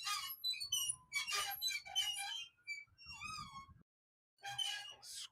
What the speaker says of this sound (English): And then we got ambulances, ambient noise.